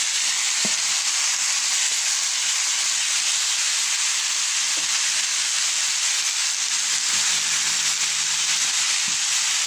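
Pork braising in hoisin sauce with celery leaves sizzles and hisses in a steady, loud wash, with a few faint soft knocks and no voices.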